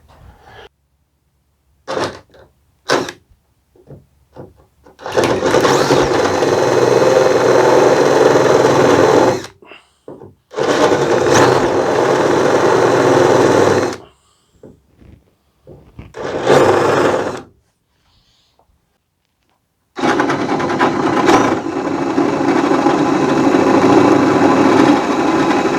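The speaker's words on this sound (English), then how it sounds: "I'm going to try to just drill halfway through from each side to minimize blowout." A power drill bores halfway through wood from each side for thru-bolt holes in a CLC Passagemaker boat build, running in several separate bursts of a few seconds each with silent pauses between, close and loud.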